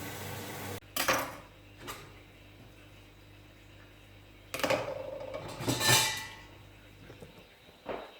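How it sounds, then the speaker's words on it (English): Dishes are washed up in a home kitchen while soup heats on the stove: a few scattered clatters and clinks of crockery over a faint steady background hum, with no talking. "while you're waiting on that boiling, you'll clean up all the dishes"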